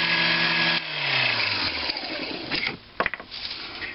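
A Sherline lathe drills through a part for an antique engine fuel pump, a steady grinding cut that winds down as the bit breaks through, followed by a few sharp clicks and knocks of handling.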